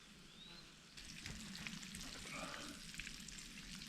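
Bacon, green pepper and eggs frying together in a camp breakfast stir fry give a steady close sizzle and crackle that swells louder after the first second and carries on without break.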